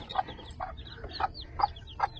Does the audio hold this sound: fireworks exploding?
no